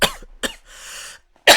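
Several loud, close coughs in separate bursts, with a short throat-clearing rasp between them and a final heavy cough at the end.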